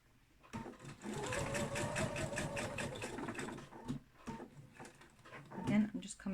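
Sewing machine back-stitching elastic onto a homemade fabric face mask, quick rhythmic stitching pulses heard close and quiet, with a voice talking over part of it.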